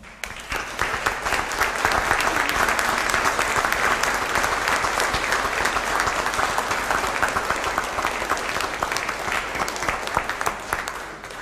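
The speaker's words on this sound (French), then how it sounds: "tout spécialement Bruno de Maistre, qui mérite nos applaudissements." Sustained applause from a gathered crowd at the blessing of a chapel, steady and dense clapping throughout with no talk over it.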